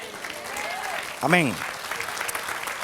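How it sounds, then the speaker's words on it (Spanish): A church congregation applauds behind a preacher who voices a brief exclamation in the middle, the clapping soft and continuous beneath his voice. "Dale otra aplauso, Señor."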